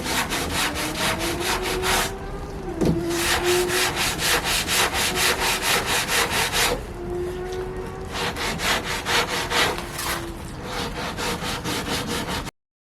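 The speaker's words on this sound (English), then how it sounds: "the final step is some wet sanding" Wet sanding a smoothing coat on a wooden window sash by hand: steady rhythmic back-and-forth rasping strokes, close and fairly loud, with a short pause midway before the strokes resume, no voices.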